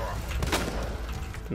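Gunfire in the video game Resident Evil 2, a few sharp close shots with a bright burst near the middle, over steady game ambience with no voices.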